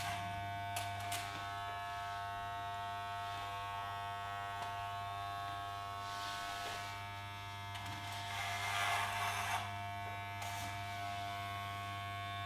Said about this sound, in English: Roll it back and clipper all that thickness off.